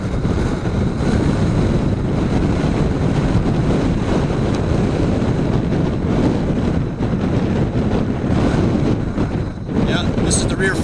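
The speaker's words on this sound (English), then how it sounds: "Sorry if it's weird, very windy." Strong gusting wind from a tornado's rear flank downdraft roars and buffets the microphone continuously, a loud rushing that barely lets up for the whole stretch.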